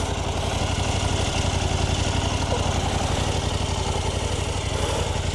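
KTM 790 Adventure motorcycle idling, heard from behind at the exhaust, where the stock pipe is still fitted instead of the planned Akrapovic: a steady, close, loud throbbing pulse that stays even throughout.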